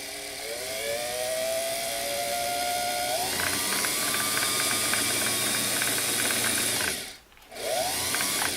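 A restored Singer Model 337 sewing machine motor runs steadily from the foot pedal, a continuous whirring hum with a pitch that rises partway through, light mechanical ticking, then a brief cutoff and restart near the end.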